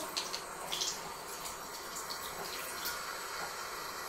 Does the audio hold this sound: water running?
yes